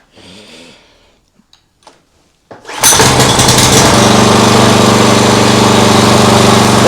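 Homemade outboard motor powered by a lawn mower engine, choke worked by hand, cranks with a couple of short pulls and then starts, settling into a loud, steady, close running drone with a rough rhythmic throb.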